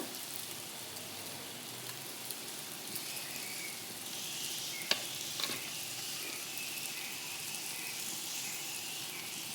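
Chili, coriander and garam masala powders are stirred into sautéed tomatoes for ghee chicken biryani, making a faint, even sizzle with a few soft scrapes and taps of the spoon.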